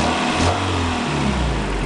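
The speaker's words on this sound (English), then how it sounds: "I'm gonna rev the engine." A Toyota engine revs steadily during EGR valve diagnostics with a vacuum gauge attached, a loud continuous mid-pitched roar with a slight swell near the start and no talking.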